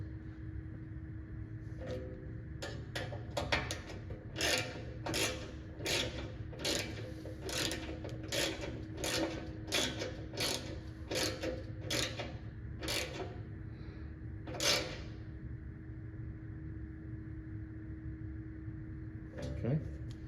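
Rapid ratcheting clicks from a wrench tightening the outer wing bolts on an RMW Twin Peaks rear bumper, a steady run of sharp clicks in bursts, close by, over a low background hum.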